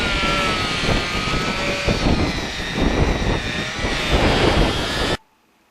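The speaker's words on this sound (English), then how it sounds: "It's a Makita die grinder with a flapper wheel on it." A Makita die grinder fitted with a flapper wheel hones out a used bearing. It gives a loud, steady high-speed whine with a rough grinding texture that runs continuously, then cuts off abruptly near the end. There is no speech.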